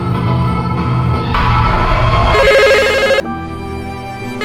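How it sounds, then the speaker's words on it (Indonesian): A telephone ringing loudly in a room, startling a woman doctor named Rose awake from sleep. A sustained, electronic ringtone with shifting tones that steps through several loud phrases. "dikagetkan dengan suara telepon yang begitu dahsyat"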